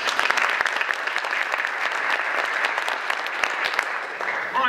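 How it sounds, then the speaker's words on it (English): An audience at a mayoral candidate forum for the general election breaks into steady applause, a dense, continuous clatter of clapping that holds evenly for several seconds. "round of applause."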